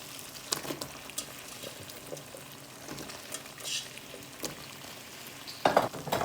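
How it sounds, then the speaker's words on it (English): Potatoes frying with spices in oil over a high flame for a spicy eggplant sabzi, a steady close sizzle with occasional stirring scrapes and a louder crackling burst near the end, no talking. "Then I'm going to fry in high flame about 2 to 3 minutes first, because potato takes time to cook."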